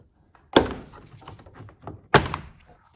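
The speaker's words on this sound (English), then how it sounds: "Remove this piece of trim right here." A plastic trim piece is popped off the inside of a 2007-2013 Toyota Tundra front door: two sharp, close thunks about a second and a half apart, with faint rustling and handling between them.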